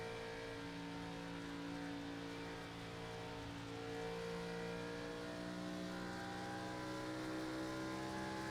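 A Gen 4 race car engine in a racing video game at Pocono drones at a steady, strained pitch, sounding held back and bogged down rather than revving freely, with no talk over it.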